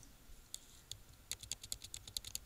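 Keys clacking on a computer keyboard as an address is typed into an Excel sheet, a few isolated taps followed by a quicker run of light, crisp keystrokes, close and fairly quiet, with no talking.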